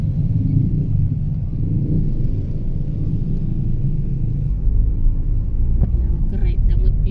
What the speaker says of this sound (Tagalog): Traffic talaga dito. Dikit-dikit mga sasakyan.